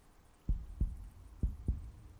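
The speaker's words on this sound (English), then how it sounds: "you will hear a heartbeat." Heartbeats in the horror game The Backrooms Poolrooms, two pairs of low, muffled thumps in a lub-dub rhythm over a faint hum, fairly close and clear.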